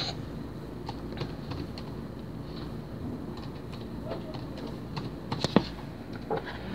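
Quiet clicks of a phone number being keyed into an online form, scattered light taps under a steady background hum, close but faint.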